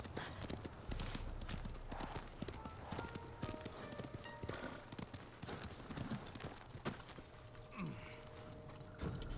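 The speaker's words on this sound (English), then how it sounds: "It feels like the horses are running much slower now." Rapid, rhythmic clip-clop of horse hooves galloping in the video game Ghost of Tsushima, steady and fairly quiet, with occasional faint clanks and a soft voice in the background.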